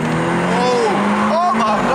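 BMW F30 328i sedan on coilover suspension pulling hard in second gear, its engine note climbing steadily in pitch, loud and continuous, with voices in the cabin over it.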